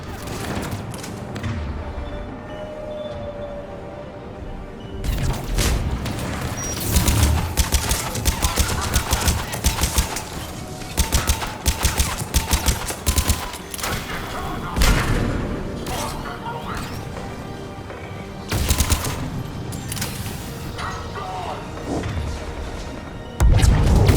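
Gunfire rattles through a firefight in Mass Effect 3, with loud sustained bursts of automatic shots, explosions and thuds continuing over many seconds, mixed with game voices.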